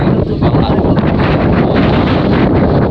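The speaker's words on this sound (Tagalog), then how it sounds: "lakas ng hangin oh" Loud, steady wind buffets the microphone with a constant roaring rush that never lets up.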